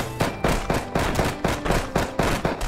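Gunfire in the tower defence action game Defender Bros, a steady rhythmic string of about ten loud, close shots at regular intervals with no pauses and no talking.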